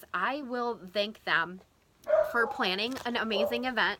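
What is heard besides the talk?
dog barking in the background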